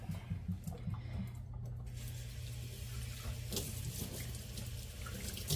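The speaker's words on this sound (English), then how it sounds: "I'm going to rinse it really well." Tap water running steadily into a kitchen sink while a cast iron pan is rinsed, a continuous hissing splash with slight shifts as the pan moves under the stream.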